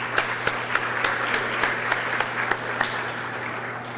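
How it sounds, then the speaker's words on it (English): A graduating high school class and audience at a 2019 class day ceremony break into applause, a broad steady wash of clapping with a few sharper individual claps standing out, and no talking. "give yourselves a round of applause"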